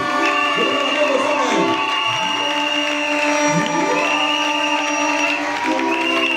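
A church congregation cheers, shouts and applauds loudly and steadily for their pastor, a dense crowd roar with whoops rising throughout, while a voice speaks over it.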